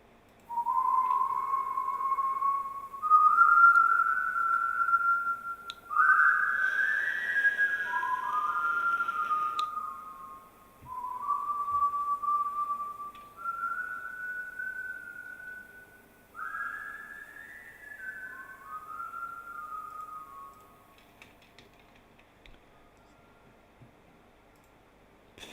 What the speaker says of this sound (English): So this is the whistling sound effect